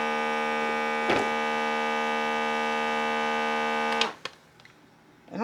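A Temu vacuum bag sealer pulls air from a large bag, giving a steady, loud motor hum that runs on without a break and then cuts off abruptly near the end, followed by a couple of clicks and quiet.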